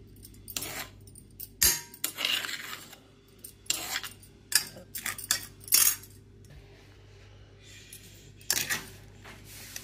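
Cucumber pachadi chutney is stirred in a bowl with a spoon, giving sharp metallic clinks and scrapes in irregular bursts, close and clear, with quiet pauses between strokes.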